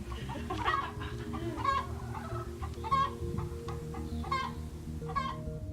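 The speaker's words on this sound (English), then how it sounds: "And we've got chickens in the corner," Several hens cluck in short bursts at a steady pace over a low, constant hum of background noise.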